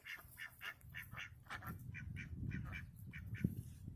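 A duck quacks repeatedly in a quick, steady series of nasal calls, fairly close and clear over a low background rumble, with no talk.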